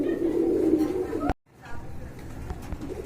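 Pigeons, including a khaki female, coo in a deep, throbbing drone that is strong at first, then cuts out abruptly and returns fainter, with voices mixed in.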